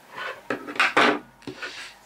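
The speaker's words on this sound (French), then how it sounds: "Je vais couper à ras les fils que j'ai cachés." Scissors snip crochet yarn ends close to a granny-square bum bag, giving a few short, dry cuts and rubbing sounds in quick succession, close and fairly quiet.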